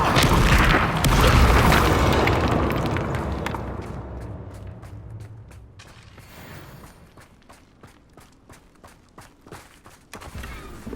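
A Confringo fire spell blast in the video game Hogwarts Legacy erupts with a loud, deep boom that rolls out and fades over several seconds, followed by a trail of sharp crackling impacts.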